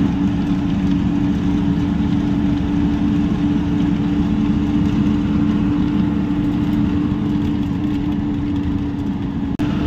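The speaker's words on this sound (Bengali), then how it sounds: "আরামবাগের যে ব্রিজটা আছে, সেই ব্রিজটার উপর দিয়ে এখন বাস যাচ্ছে আমাদের" A bus crossing the Arambagh bridge, its engine a steady loud low drone with road rumble heard from inside, continuous and unbroken with no talking.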